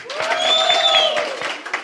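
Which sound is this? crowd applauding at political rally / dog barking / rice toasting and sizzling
crowd applauding at political rally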